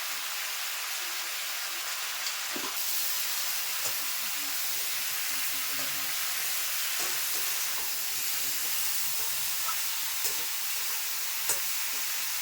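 Drumstick curry frying with salt and turmeric in a pan gives off a steady, hissing sizzle throughout, with a few faint clicks of a stirring spoon and no talk.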